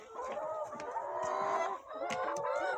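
Laying hens clucking steadily at close range on a poultry farm where the flock has been hit by flu. The calls are continuous and overlapping, with a few louder squawks and no talk.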